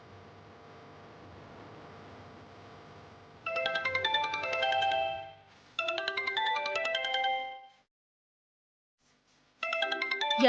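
A phone ringtone for an incoming call plays a bright, repeating melodic tune in three loud bursts, with a short gap and then a longer silence before the last burst, over a faint background hum.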